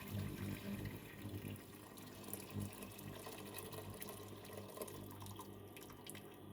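Water runs steadily from a tap as 2 liters are poured into a large cooking pot on a stove, a continuous close, fairly loud splashing fill with no talk.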